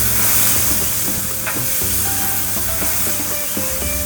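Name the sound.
lamb chops sizzling on a flame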